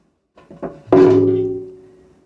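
A fuel tank being lifted off and slid out of the frame of a 1975 Kawasaki H1 motorcycle: a few light knocks, then a single louder metallic thunk that rings and fades over about a second, close by with no talk.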